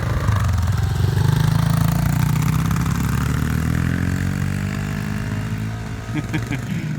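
A Honda CRF250F dirt bike engine holds a steady, loud mid-pitched drone that rises and falls slightly as the rider shifts gears, with voices talking faintly over it.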